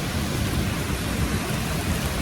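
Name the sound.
heavy rain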